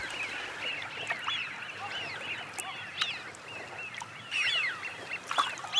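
Flock of Eurasian wigeon on Chilika Lake, Odisha, giving repeated whistling calls from several birds at moderate distance, overlapping irregularly against a soft outdoor background.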